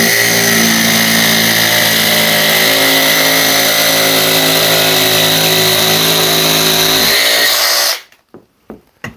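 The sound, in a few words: jigsaw cutting composite decking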